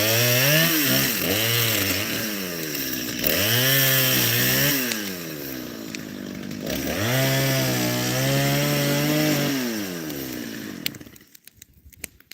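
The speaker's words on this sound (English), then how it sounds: "Nan and I bought him that chainsaw for Christmas one year." A chainsaw runs loudly up close, its engine revving and dropping in repeated swells before cutting off near the end.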